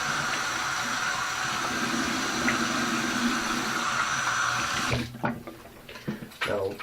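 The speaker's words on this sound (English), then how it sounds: "Let me just wash my hands off." Tap water runs steadily into a sink while hands are washed underneath, a constant close hiss that breaks into splashy, uneven gushes near the end.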